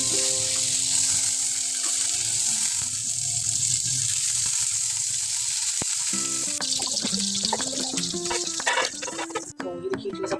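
Cheese sandwiches frying in butter in a pan, a steady bright sizzle throughout, with music in the background and a brief quieter moment near the end.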